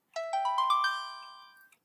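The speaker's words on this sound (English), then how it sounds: "My phone may ring." An old cell phone rings with a short rising sequence of bright electronic tones, clear and isolated against silence, the final note ringing out and fading.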